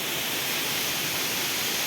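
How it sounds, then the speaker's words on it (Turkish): A small waterfall, Kadıncık waterfall near Ulubey in Ordu, pours in a steady, close, broad hiss of falling water with no talk over it. "Küçük bir şelale"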